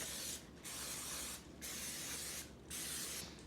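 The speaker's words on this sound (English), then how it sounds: "need to lightly grease" Three short bursts of spray grease hissing onto baking rings, each about a second long with brief gaps between, close and fairly quiet.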